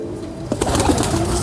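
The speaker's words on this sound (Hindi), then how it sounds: "और ये एक गोल्डन कबूतर है" Pigeons cooing softly in a low, continuous murmur at close range, with flying pigeons in a Lahore loft setting.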